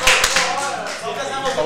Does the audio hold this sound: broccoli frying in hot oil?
no